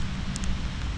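Steady rain falls outdoors, making a dense even hiss that lasts throughout at moderate loudness, with no voices.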